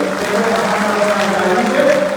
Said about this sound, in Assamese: মই সকলোকে এবাৰ জোৰদাৰ হাত চাপৰি দিবলৈ অনুৰোধ কৰিছোঁ।